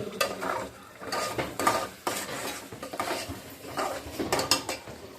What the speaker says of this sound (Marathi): व्यवस्थित तिला शिजवण्यासाठी मिक्स करायचं आपल्याला